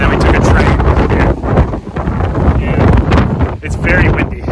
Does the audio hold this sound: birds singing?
no